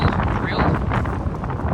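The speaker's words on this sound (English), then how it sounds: "God damn, it's windy." Strong wind buffets the microphone in a constant low roar on a hilltop, gusting loudly throughout the short stretch.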